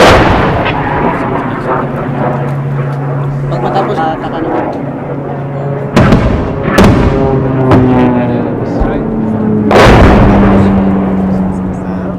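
Military mortar fire during fighting in Marawi, with loud booming launches and sharp reports over a constant heavy rumble, a droning engine tone in the background and voices talking throughout.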